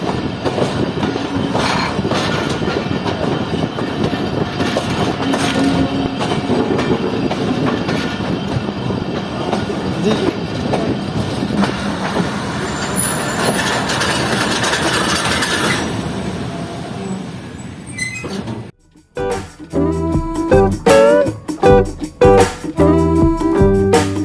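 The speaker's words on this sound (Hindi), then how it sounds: "इस वक्त इस स्टेशन पर सिर्फ एक ही ट्रेन आती है और जाती है" The Moen Jo Daro Express on Pakistan's ML-2 line between Rohri and Kotri runs along the track with a steady, loud rumble and clatter for most of the stretch, then sharp rhythmic clicks of wheels over rail joints close by near the end.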